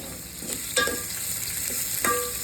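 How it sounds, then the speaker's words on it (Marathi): Onion and green chilies fry in hot oil with curry leaves and mustard seeds for kanda poha, making a close, steady sizzle broken by a few sharp spatula scrapes against the pan. "आता कांद्याला लाल होईपर्यंत परतून घेऊया."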